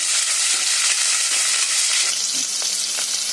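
Onions and green chillies fry in oil for a coconut milk pulao, a loud, close and continuous sizzle with a few light stirring clicks.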